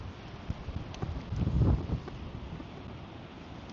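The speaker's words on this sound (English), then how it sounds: "This wind needs to take a rest here. It's rough." Strong wind at a local fishing pond blows steadily across the microphone as a low, rough rumble. One louder gust swells briefly in the middle, and no one speaks.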